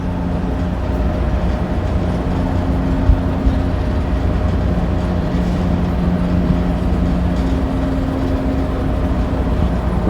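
A Yerf Dog go-kart's small engine runs steadily, a close, unchanging droning hum that continues without pause.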